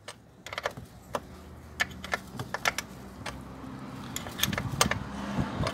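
A 10 mm wrench tightens a part on a Fiat Palio car door, giving sharp irregular metallic clicks and ticks up close over a faint background hum.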